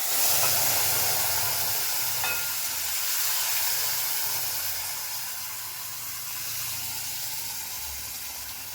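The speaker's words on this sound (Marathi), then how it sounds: "कढीपत्ता आणि डाळ ओतून घेते" Steady hissing sizzle of curry leaves and dal poured into hot tempering for a simple home-style vataṇa dal, a continuous broadband fry noise holding at a fairly even level throughout with no talking.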